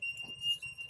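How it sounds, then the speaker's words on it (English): A carbon dioxide monitor alarm in a home kitchen emits a steady, thin electronic tone that holds through most of the short moment, fairly faint, with low background hum and no speech. "It's one of the alarm that indicates the amount of carbon dioxide you have in the air."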